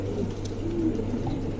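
A pair of Andalusian pigeons coo softly and steadily at close range, with low rolling coos and no voices.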